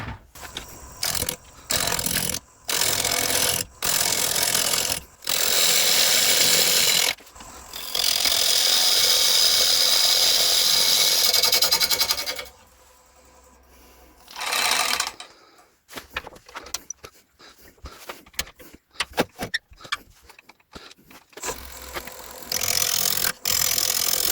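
A wood lathe faces off and shaves a piece of oak for a cake stand. Loud scraping cutting noise comes in bursts, with one long sustained cut, then scattered short clatters and a final burst.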